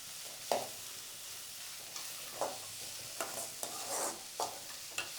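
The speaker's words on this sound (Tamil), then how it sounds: "இப்போ வெங்காயமும் பச்சை மிளகாயும் கொஞ்சம் வதங்கிருச்சு." Onions and green chillies sauté in a pan for a goat blood fry, a soft sizzle broken by several scraping stirs at irregular intervals, quiet and close, with no voices.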